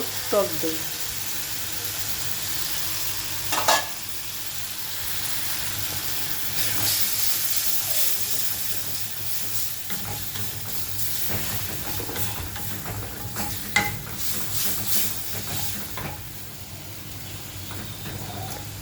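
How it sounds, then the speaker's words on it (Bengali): Spice paste for a prawn curry stir-frying in a pan, a steady close sizzle lasting throughout, with occasional scrapes and clinks from stirring and a voice speaking at times. "এবার পাঁচ সাত মিনিট মশলাটাকে বেশ ভালোভাবে কষিয়ে নিতে হবে"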